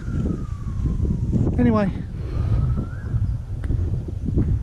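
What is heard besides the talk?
siren of an emergency vehicle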